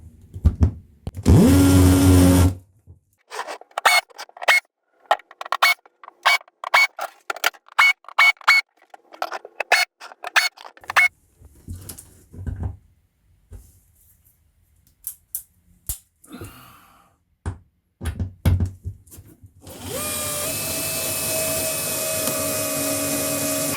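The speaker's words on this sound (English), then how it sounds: "I'm screwing pilot holes and countersink holes for each one because the marine ply is really quite hard" Power drill boring pilot and countersink holes into hard marine plywood for a narrowboat bathroom floor, heard as a long burst at the start, many short stuttering bursts through the middle, and another sustained whine at the end.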